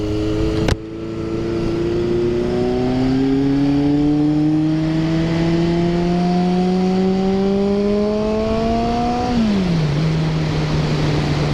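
A 1975 Honda CB750 motorcycle engine revs up with a steadily climbing whine that holds high, then drops back to a lower drone, loud and close after a brief click at the start, no talk.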